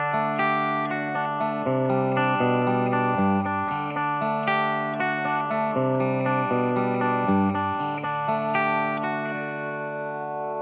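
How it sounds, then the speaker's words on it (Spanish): An electric guitar played through a Blackstar Debut 50R amplifier on its clean channel with no effects, strumming sustained chords in a steady progression, clear and upfront. "Vamos a escuchar también el canal limpio"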